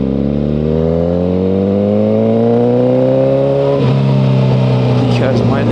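A Suzuki GSX-R1000R motorcycle pulls away from a stop sign, its engine note climbing steadily as it accelerates, loud and close, dropping briefly at a gear change before rising again amid wind noise.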